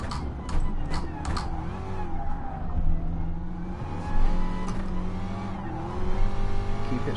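Gr.3 race cars roar around Dragon Trail in Gran Turismo Sport, with a steady engine drone and rising pitch as another car pulls alongside and passes, tires faintly squealing.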